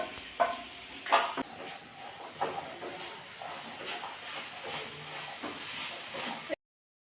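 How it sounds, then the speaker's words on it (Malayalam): Fish fries in a pan during home cooking, with a steady hissing sizzle and a few sharper clatters from utensils, moderate and close, before the sound cuts to silence. "ഇപ്പൊ മാന്ത പൊരിക്കുകയാണ്"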